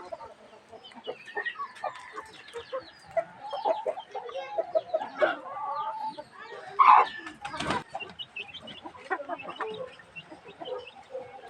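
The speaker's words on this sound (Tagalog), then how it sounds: "Ito yung mga malaki kong manok," Backyard chickens, large hens and small chicks, clucking and cheeping steadily while feeding, a dense mix of short calls at close range with a louder squawk near the middle.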